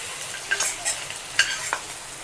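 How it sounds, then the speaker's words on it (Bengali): Nigella seeds and green chillies tempering in hot oil give a quiet, brief sizzle broken by a few sharp crackles and pops. "কালো জিরে, কাঁচা লঙ্কা ফোড়ন দিয়ে"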